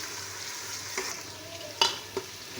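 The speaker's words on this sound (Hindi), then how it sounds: "लहसुन अदरक का पेस्ट डाल दिया इसमें। तो इसको अच्छी तरह 5 मिनट तक भूनेंगे, भुनाई करेंगे।" Garlic ginger paste frying for a bean mince curry: a quiet, steady hiss of sizzling oil with a few soft scrapes and taps of a stirring spoon, close by and without talk.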